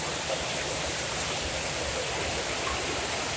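A hot hotel jacuzzi churns with steady bubbling and rushing water, a loud, continuous broadband wash that stays even throughout with no talk.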